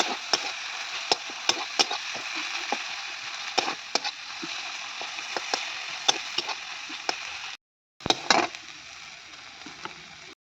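Bata fish fries in a pan with a continuous loud sizzle, broken by frequent sharp clicks and scrapes of a utensil. There is one brief gap near the end.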